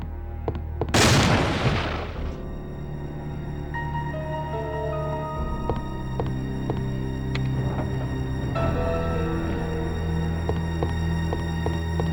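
A shotgun blast aimed at a zombie in Resident Evil 2 on PlayStation hits with one loud, sharp boom early on, followed by a steady hum of background game music.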